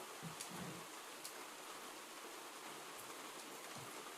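A rain sound effect plays as a steady, faint hiss of falling rain with scattered soft drop patters, continuous and unchanging throughout, with no voices over it.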